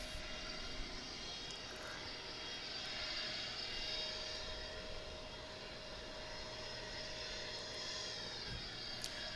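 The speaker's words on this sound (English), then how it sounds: "we've got an American Airlines flight coming in from Honolulu. That'll be a 777." An American Airlines Boeing 777 arriving from Honolulu at DFW, a steady jet engine drone with a sustained whine, fairly distant and unbroken throughout.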